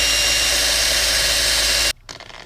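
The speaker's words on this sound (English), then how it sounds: "Now let's drill and tap the opposite side of this." A loud, steady high-pitched whine of a power drill boring into metal on a 1/14 scale lowboy trailer, running continuously, then cutting off abruptly near the end, leaving quieter clicks and handling noise.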